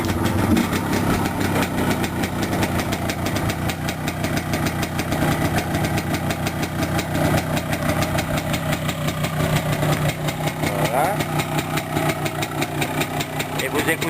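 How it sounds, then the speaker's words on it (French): A motorcycle engine idles steadily and loud from start to finish, a cold bike just started up during a pre-purchase inspection, with a rough mid-pitched throb and light mechanical clatter, and faint voices behind it. "vous écoutez le ralenti."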